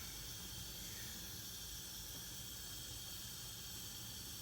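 Mushrooms steaming in a pan for a plant-based breakfast give off a steady, close hiss with no breaks or talk throughout.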